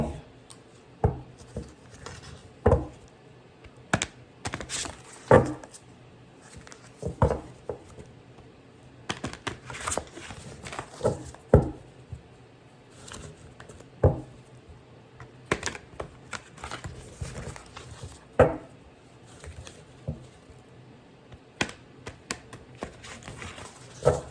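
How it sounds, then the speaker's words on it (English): Sharp papery riffles and taps of tarot cards being shuffled, repeated in uneven bursts with short pauses, close by and with no talking. "These cards are hard to shuffle."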